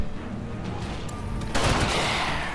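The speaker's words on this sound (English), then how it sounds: "Gunshots. Gunshots everywhere." Gunfire from the video game Darkest Dungeon, dense overlapping shots that swell louder about halfway through.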